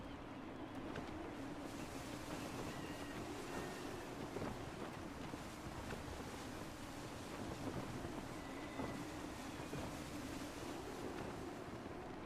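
Wind and waves surround a sailing ship in the video game Assassin's Creed III: a steady rushing wash of wind and surf, moderately loud and unbroken, with faint creaks and splashes and no voices.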